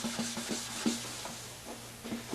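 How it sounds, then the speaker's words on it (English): Sandpaper rubs over a wood finish in straight strokes along the grain, a soft, steady back-and-forth scratch repeating roughly every third of a second, close and quiet. "I prefer to use straight strokes with the grain in the final sanding."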